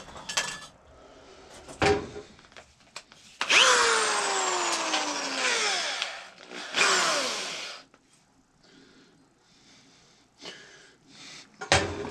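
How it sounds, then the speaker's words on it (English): A power drill bores a pilot hole through a wooden board in two sustained bursts, motor pitch dropping under load, with short clicks and handling noises between. "I'm first going to drill a pilot hole through the board"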